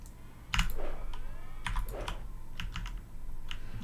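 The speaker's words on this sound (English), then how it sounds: "just type name at the console and type in your new name." A few quick keystrokes on a computer keyboard entering a command at the Quake console, with close clicks in short clusters and quiet gaps between them.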